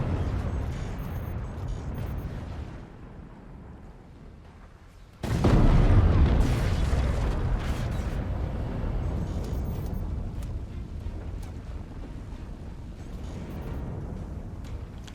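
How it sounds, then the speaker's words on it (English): A heavy boom erupts partway through as a howitzer shell explodes in the Forts RTS video game, followed by a loud rumbling roar that lingers, with a quieter low rumble before it. "And send another howitzer shell across."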